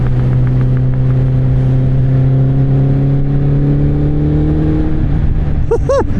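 A Kawasaki Z1000 motorcycle with an Akrapovic exhaust pulls through the gears with a loud, smooth rising engine drone heard from the rider's position, then shifts near the end into quick revs.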